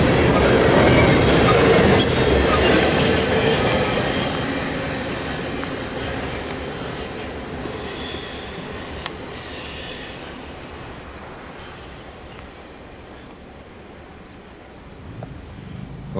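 Norfolk Southern eastbound intermodal freight rounding a curve on the Pittsburgh line at South Fork, Pennsylvania: loud rumbling cars with high wheel squeals and clatter, slowly fading as it passes, no talk.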